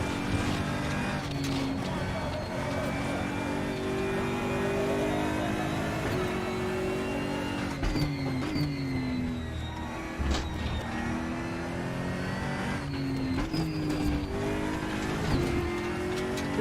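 A race car engine in the RaceRoom sim racing game revs and climbs through gears, with pitch dropping on downshifts and brief tire squeal, steady and close throughout with little talk.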